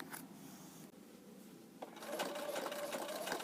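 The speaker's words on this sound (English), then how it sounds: "we're stitching a generous 1/4 inch from the edge" A sewing machine stitches quilt binding a generous quarter inch from the edge, a steady close mechanical whirr that grows louder and faster in the second half, with no talking.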